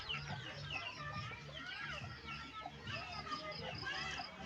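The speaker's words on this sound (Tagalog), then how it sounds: "Naingay yung aking mga alagang manok guys." Pet chickens cluck steadily at a home in Masbate in the afternoon, a busy overlapping chorus of fowl calls with faint background noise and no clear talk.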